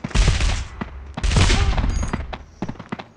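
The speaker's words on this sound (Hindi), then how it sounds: "इसको भी मैंने तुक्के से गोलियां मार दी" Rapid bursts of gunfire in FAU-G multiplayer PVP mode, loud clustered volleys with sharp shots separated by brief pauses, no speech over them.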